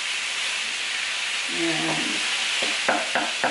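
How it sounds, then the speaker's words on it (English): Ground meat browning in a pan gives a steady hiss and sizzle while a utensil scrapes and breaks it apart, with a brief voice heard near the end. "I'm just going to break this meat up a little bit"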